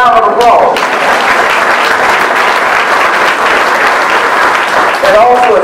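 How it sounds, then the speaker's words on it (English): Audience applause at a fundraiser dinner for a Boys and Girls Club: loud, full, sustained clapping from a large seated crowd, with brief speech at the very start and end. "Give yourselves a round of applause."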